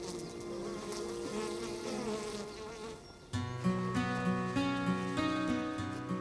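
Honey bees swarming around beekeeping suits give a steady buzzing drone, with music swelling over it partway through and largely masking the hum.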